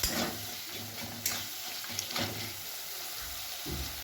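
Spiced masala with chopped tomato and a little salt sizzles and fries in oil in a pan, with stirring scrapes and brief clinks breaking the steady close-up crackle.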